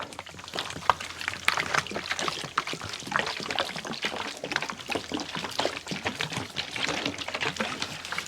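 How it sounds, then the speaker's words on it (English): Water poured over a black walnut log on a sawmill, a steady splashing pour with trickling and dribbling that runs continuously at close range and moderate loudness. "let's throw some water on it"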